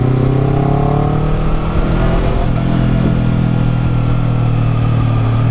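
Steady Honda CBR250RR (2019) sport motorcycle engine drone while riding, a continuous mid-pitched hum with a slight shift in tone partway through, close and fairly loud.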